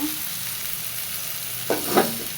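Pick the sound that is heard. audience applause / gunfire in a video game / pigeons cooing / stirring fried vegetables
stirring fried vegetables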